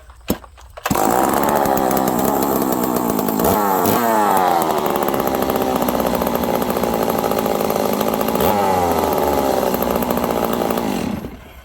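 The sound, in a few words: ported Stihl 038 Magnum chainsaw starting and running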